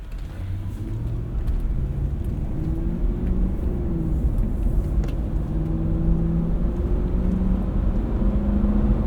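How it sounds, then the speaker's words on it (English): A 2000 Lexus LX 470 with about 290,000 miles gives a steady low engine rumble while driving, heard from inside the cabin, continuous and fairly loud with no talk over it. "It's just a distant, confident rumble."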